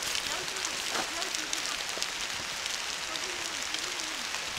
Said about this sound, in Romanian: A început să plouă destul de tare.